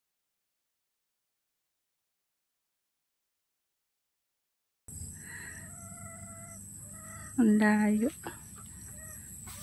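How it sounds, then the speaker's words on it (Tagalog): Chickens on a farm cluck softly, then one crows once loudly and clearly at close range, after a quiet start with a brief spoken remark. "Oh, yung mga manok."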